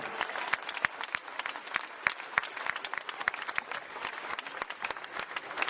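Steady applause from a crowd at a sailing race trophy ceremony, with sharp individual claps standing out over a dense wash of clapping throughout.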